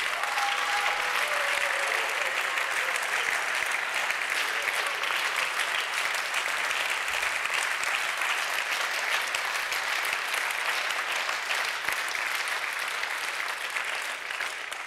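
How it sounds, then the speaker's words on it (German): A comedy club audience gives a steady, loud round of applause for performers, dense even clapping filling the whole stretch with a faint crowd murmur. "Großen Applaus an die Jungs."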